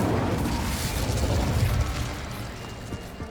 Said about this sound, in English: Incendio.